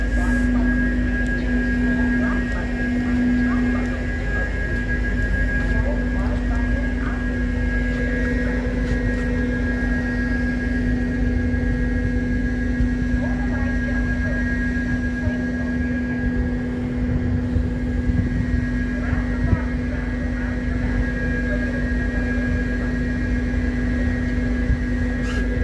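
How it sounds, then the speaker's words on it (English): Constant low rumbling engine drone aboard a ferry from Powell River to Nanaimo, with a steady hum, loud and unbroken throughout. "Ferries make noise."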